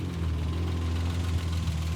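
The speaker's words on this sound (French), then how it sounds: "Et le bruit des moteurs, Jenny semble y avoir pris goût." A tuned car engine idles steadily inside a garage, with a strong low rumble and a faint knocking pulse. The sound holds even throughout at a moderate level.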